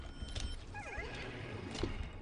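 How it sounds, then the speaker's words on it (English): A horse whinny from the Destiny 2 game's space horse, a single short descending neigh, faint and somewhat distant, against a low background rumble. "Space Horse, why are you making all these scary ass noises?"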